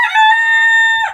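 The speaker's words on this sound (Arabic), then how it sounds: "جميل الديل. ديك ام احمد" A rooster crows close by. One loud, sustained call holds steady and tails off at the end, with no other sounds around it.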